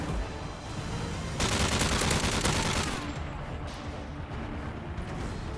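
Sustained bursts of automatic gunfire with heavy crackling volleys in Call of Duty Modern Warfare 3 Survival mode, loud and dense, easing slightly toward the end.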